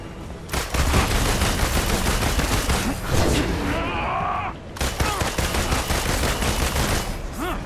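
Relentless close gunfire rattles in the Marvel's Avengers video game, a dense stream of rapid shots with only a brief dip. Effects and shouting mix in.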